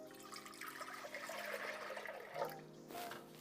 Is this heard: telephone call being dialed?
no